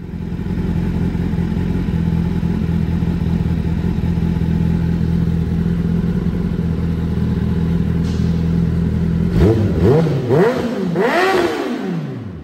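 Kawasaki Ninja ZX-10R (2024) with an M4 exhaust: a steady, loud idle runs for about eight seconds, then the engine gives several sharp revs that rise and fall in quick succession near the end.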